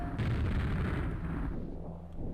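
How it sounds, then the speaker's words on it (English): Ogres hurl grenades in a game, and a heavy explosion booms out loud at once, its rumbling blast decaying over about two seconds with debris-like crackle fading away. "There's ogres everywhere throwing grenades of death."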